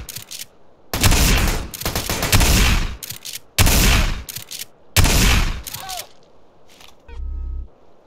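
Bursts of rapid gunfire in the game GTA San Andreas, modded, with several loud automatic volleys separated by short pauses, one final shorter burst ending the sequence.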